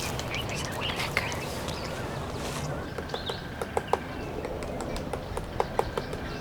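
Near a riverside camp in South Africa, a bird sends out repeated sharp chirps and calls over a soft outdoor background, with scattered tapping sounds mixed in.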